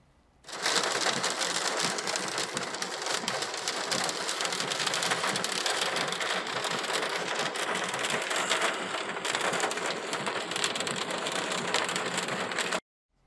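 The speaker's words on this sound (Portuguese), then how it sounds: "chuva também que o Cleiton Piton mandou pra gente." Steady heavy rainfall in Rio Grande do Sul pours down evenly, a dense continuous hiss of drops on surfaces that starts abruptly and holds at a loud, constant level until cut off.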